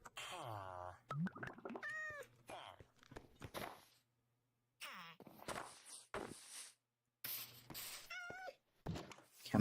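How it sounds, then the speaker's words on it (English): A cat meowing in the video game Minecraft, several short rising mews in a village scene among footsteps and thuds, moderately near, with gaps of near silence between. "I'm hearing a cat."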